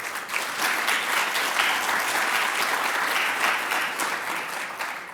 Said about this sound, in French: je vais demander donc des acclamations vraiment tout à fait particulières